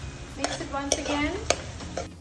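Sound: stirring Kung Pao chicken in a pan

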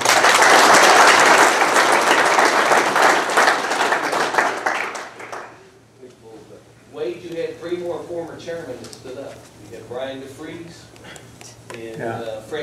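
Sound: audience applause

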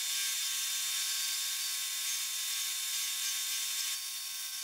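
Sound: bandsaw cutting out a thick wooden elephant design

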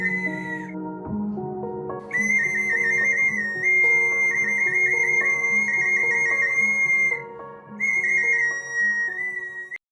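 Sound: clay whistle toy being blown

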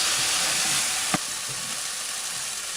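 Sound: onions and tomato paste frying in pan

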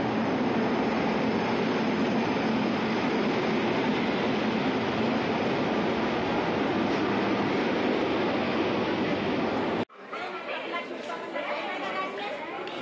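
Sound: train arriving at station

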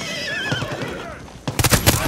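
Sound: horse neighing in Far Cry 6 video game

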